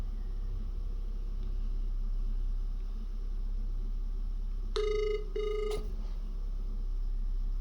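An outgoing phone call's ringback tone comes as two short, clear tone bursts near the end, over a steady low hum, with no talking.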